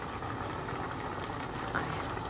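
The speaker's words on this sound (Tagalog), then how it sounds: "Ayan guys, kumulo na yung tubig." A pot of water boils on the stove, a continuous soft bubbling and rolling gurgle at close range, steady and fairly quiet throughout.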